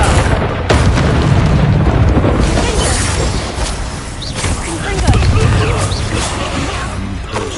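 A loud, booming blast from the Bombarda spell in Hogwarts Legacy, with a sharp crack up front followed by rumbling debris and crashing, and a character's voice briefly audible amid the noise.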